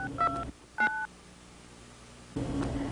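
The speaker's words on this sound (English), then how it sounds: "All he did was pick up his telephone, push the clear button, and dial the number for Tony's Pizza." Touch tones of a telephone number being dialed on a phone for a clear call: three short bursts of dual-pitch keypad beeps, fairly loud and close, with quiet hiss between them and no talking.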